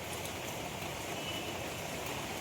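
Heavy monsoon rain pours steadily in Mumbai, a dense unbroken hiss filling the scene at close range with no voices.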